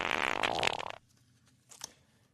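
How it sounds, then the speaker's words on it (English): A loud, sputtering fart of about a second is followed after a pause by a shorter, fainter squeaky one. "He's pooping. And farting."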